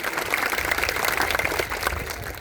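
A crowd at a farmers' protest rally applauds in a steady burst of clapping, heard at a moderate distance without talk over it.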